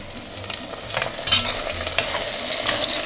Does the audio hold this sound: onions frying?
yes